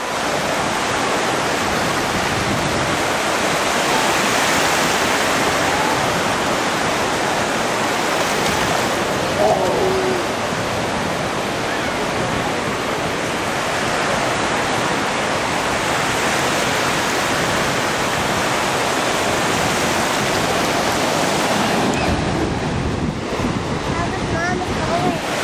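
Ocean waves roll onto a beach in a steady, loud wash of surf with wind buffeting the microphone, continuous throughout with a slight drop near the end.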